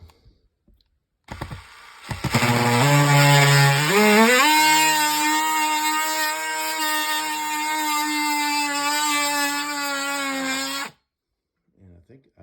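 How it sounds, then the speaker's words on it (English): A power tool cuts out sheetrock for outlet boxes while attic storage is built, a steady high-pitched whine that revs up over the first seconds and then holds loud and continuous for about eight seconds before stopping abruptly. "coolest tool ever for cutting out sheetrock for outlet boxes is one of these babies right here"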